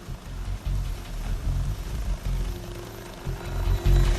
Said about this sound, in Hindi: हेलीकॉप्टर उसके करीब आया और उसे रस्सी की मदद से निकालने की कोशिश शुरू कर दी